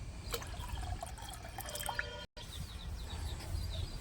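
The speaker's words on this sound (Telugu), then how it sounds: "ఈ చింతపండు తీసి పెట్టుకున్న ఈ రసం అంతా కూడా పోసేసుకొని పులుపుకు సరిపడన్ని నీళ్లు పోసుకుందాం" Tamarind juice and water poured into a bowl for a Telangana-style raw tamarind stew, a soft, close liquid trickle and dripping that runs steadily and breaks off for a moment partway through.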